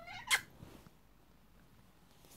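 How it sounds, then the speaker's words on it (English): A pet cat gives one short, fairly faint meow indoors, with a bright brief cry near the start followed by quiet room tone. "This is my kitty."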